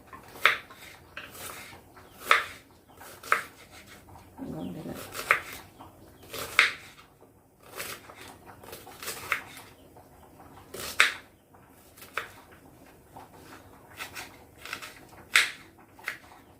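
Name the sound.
knife chopping onion into medium pieces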